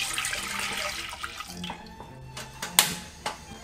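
Half a litre of milk poured into a pot for boiling, a steady liquid stream at first that thins out into small splashes and drips, close and fairly quiet.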